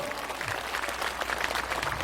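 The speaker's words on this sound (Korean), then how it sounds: "한번 더 우리와 같은 박수 부탁드립니다" An audience at a Buddhist dharma ceremony at Beopjusa temple applauds steadily, a dense even patter of many hands sustained throughout without pause.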